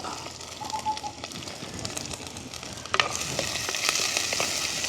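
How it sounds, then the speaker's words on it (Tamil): Small onions and green chilies with curry leaves, cinnamon and cardamom sizzle steadily in a pan over a village cooking fire, with occasional sharp crackles and stirring clicks, close and fairly quiet. "இந்த வெங்காயம், பச்சை மிளகாய் எல்லாமே அப்படியே நல்லா வதங்கி கொண்டு வரட்டுக்கும் எங்களுக்கு"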